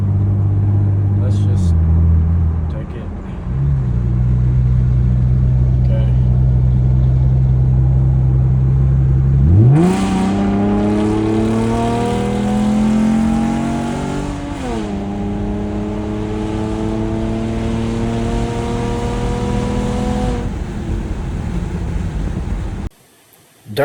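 A 2011 Camaro with a 3.6L V6 idles, then pulls at half throttle, its engine note climbing steadily through several gear changes. The sound is loud and close, with someone talking over part of it.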